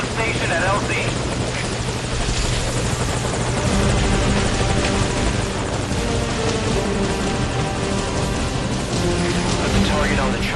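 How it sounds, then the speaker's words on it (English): A helicopter hovers at a landing zone in Metal Gear Solid V, its loud rotor thrum and engine whine steady and close throughout, with voices speaking over it. "Put the target on the chopper."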